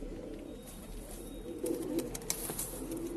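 Pigeons coo softly nearby as they are let outside and fed grain, a low burbling call rising in the second half, with faint rustling and no talk.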